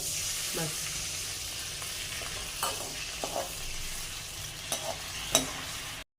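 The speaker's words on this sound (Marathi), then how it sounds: "आता आम्ही पास्त्याचं पाणी थोडंसं टाकत आहोत" Starchy pasta water poured into a pan of sizzling herbs gives a steady hiss with a few louder spatters and stirring scrapes, close and alone.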